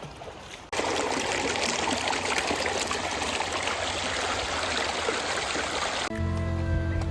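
Water pours and trickles over the white calcium travertine terraces of Pamukkale, Turkey, a steady, close, broadband rush that holds for several seconds before cutting to a quieter, tonal background.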